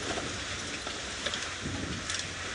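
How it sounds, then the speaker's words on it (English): Steady rain on a safari drive in the African bush, a dense continuous hiss of falling drops close around, with no speech. "when you are on safari, always be prepared for rain"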